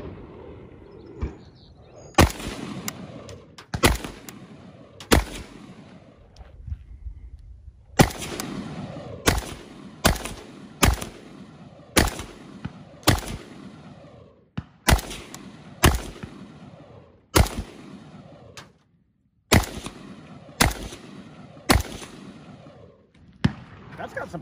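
An AK rifle with Yugoslav furniture fires loud, sharp, close-range shots, single cracks and quick bursts spaced by short pauses, each followed by a brief ringing tail.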